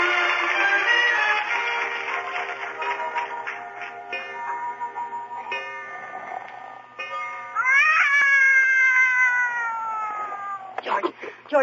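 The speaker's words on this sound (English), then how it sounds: "Did you wake me up so I could listen to that cat concert?" Cats caterwauling, drawn-out wavering yowls and meows that rise and bend in pitch, a loud nighttime cat concert with voices heard alongside.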